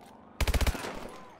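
Short automatic burst of about five rapid gunshots from Call of Duty: Advanced Warfare, loud and close, ringing into a fading echo of game ambience with no one talking over it.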